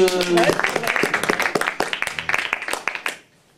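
An open-stage audience bursts into applause right after a voice, the clapping lasting about three seconds at moderate loudness before cutting off sharply.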